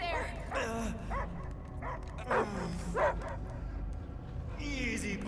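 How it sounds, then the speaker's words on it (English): Dog barking and whimpering in the Guardians of the Galaxy video game, a few short barks and yips heard close under ongoing character speech and game music. "I hear only barking."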